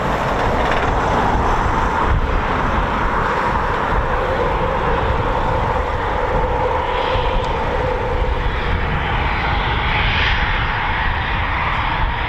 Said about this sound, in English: looks like we got another couple of Typhoons to come out.